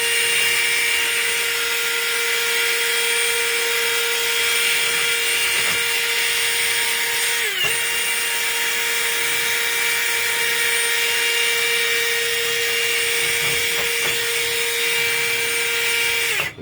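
A wire wheel on a power tool polishes an old cast brass piece, a loud, steady high whine running throughout with a brief dip in pitch midway as the metal is pressed in, and no talking.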